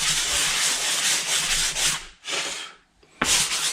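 Coarse sandpaper rubbed over a drywall spackle patch in a garage, loud close rasping strokes in a quick back-and-forth rhythm, pausing briefly twice before resuming.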